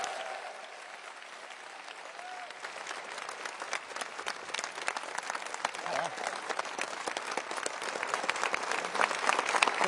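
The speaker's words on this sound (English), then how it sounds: "give a massive, warm round of applause to the leader of the Labour Party and the deputy leader, Keir Starmer and Angela Rayner" A large audience at a Labour Party event applauds Keir Starmer and Angela Rayner, the sustained clapping swelling steadily louder over ten seconds, with faint speech beneath it.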